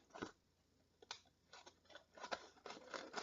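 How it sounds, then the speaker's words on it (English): Several crisp snips of scissors trimming a paper coffee filter, irregular and close, with quiet gaps between the cuts. "I'm just going to bring in some scissors and trim this over about 1/2 inch."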